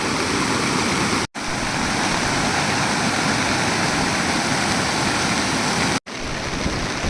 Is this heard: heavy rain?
yes